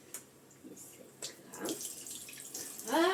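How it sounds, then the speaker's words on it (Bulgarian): Blanched onions are strained out of ice water in a home kitchen, with splashing, trickling and dripping water in irregular bursts that build to a louder pour at the end. "И сега трябва да го прецедим."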